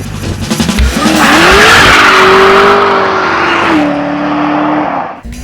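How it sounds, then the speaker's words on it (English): A fuel-injected Stingray and a car with a 413 engine rev hard side by side, a loud rising and falling engine roar that climbs, holds steady, then drops off near the end. "My fuel-injected Stingray and a 413 are revving up their engines."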